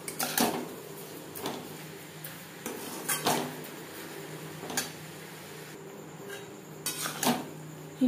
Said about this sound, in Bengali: আবারও নাড়াচাড়া করে ড্রাই করে নেব।